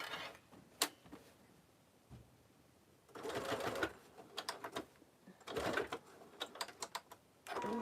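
A sewing machine stitches a zipper into a belt bag in short whirring bursts, separated by quiet pauses, close and moderately loud.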